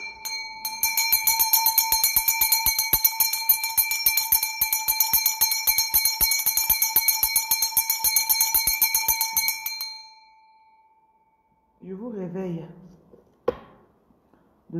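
A hand bell rings rapidly and continuously for about ten seconds, bright and close, then stops; a voice follows briefly, then a single sharp knock.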